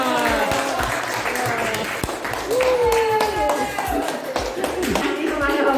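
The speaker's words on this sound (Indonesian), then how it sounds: "Tepuk tangan semua" Applause from a classroom of teachers at an adult-education training session, dense clapping running throughout, loud and close, mixed with voices chattering and calling out over it.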